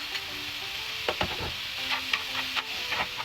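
Onions tipped into a pan of golden-browned oil for pinakbet, stirred and sizzling steadily, with a few sharper crackles and scraping strokes at close range.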